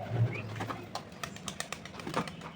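Pigeons coo softly while a pair is flown, faint low calls mixed with light clicks and rustling in a quiet outdoor setting, with no talking.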